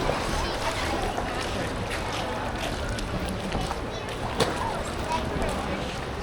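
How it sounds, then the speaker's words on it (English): Kayak paddling on Clear Creek, with soft water splashes and paddle strokes under a steady wash of outdoor noise, while people talk nearby. "I'm paddling."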